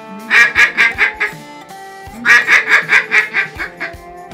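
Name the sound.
duck greeting call imitated to decoy ducks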